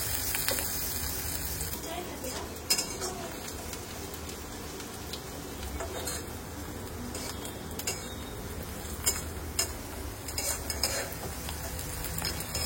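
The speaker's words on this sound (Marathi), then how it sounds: "कांदे आपल्याला गोल्डन ब्राऊन होईपर्यंत फ्राय करून घ्यायचे" Onions fry in a pan toward golden brown, a steady soft sizzle with occasional clinks of a spoon stirring, fairly quiet and close throughout.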